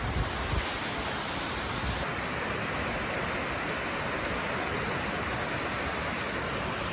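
Giant waterfall at the base of a gorge in Ithaca, a broad, constant roaring rush of falling water heard up close with no talk.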